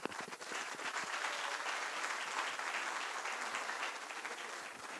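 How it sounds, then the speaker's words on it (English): A large audience at a foundation conference applauds steadily after a speech by Liberia's First Lady, dense even clapping filling the whole stretch without letup. "Big round of applause to"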